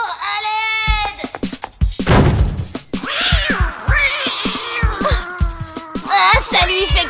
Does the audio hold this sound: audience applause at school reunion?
no